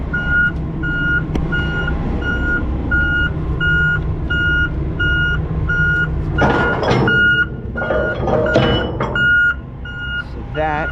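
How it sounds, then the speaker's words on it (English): Dumpster roll-off truck with its hoist raised sounds a steady, loud repeating warning beep at a regular rhythm, over a rumbling idling engine, with clanks and thumps of equipment joining midway. "that beeping is because the hoist is up in the air. So it lets you know."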